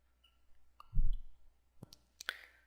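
Computer mouse clicks during an ad campaign setup, a few sharp, close, quiet clicks scattered over a near-silent background with a soft thump in the middle.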